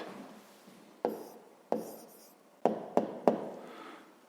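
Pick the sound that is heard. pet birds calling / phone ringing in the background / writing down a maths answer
writing down a maths answer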